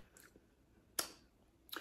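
Close, quiet chewing of crunchy freeze-dried candy, three distinct crisp crunches spaced apart in otherwise near silence.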